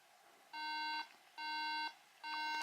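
Electronic beeping from a faulty Mac computer sounds three times in a steady rhythm, each long bright tone lasting about half a second and separated by short pauses. The sound is clear and close.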